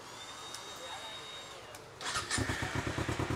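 A Kawasaki Ninja 300 fitted with a carbon exhaust starts and settles into a lumpy, pulsing idle close by, after someone talks over faint background noise.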